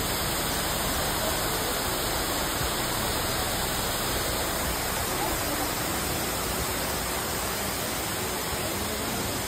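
Monterico Falls, also called Madulas Falls, a waterfall in a wooded upland setting, gives a steady, loud broadband rush of falling water that holds constant without pause throughout.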